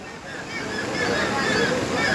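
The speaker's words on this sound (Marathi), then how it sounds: "हा नदीचा प्रवाह अतिशय वेगाने पाणी चालू आहे" A fast-flowing, flooded river near Borgaon, Udgir, rushes as a loud, steady, close wash of water with no pauses.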